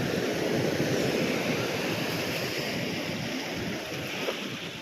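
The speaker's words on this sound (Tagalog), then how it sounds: "Ay, lakas ng alon." Strong ocean waves at Sabang, Palawan crash and wash in a continuous loud roar, heavy with wind buffeting the microphone, without any talk.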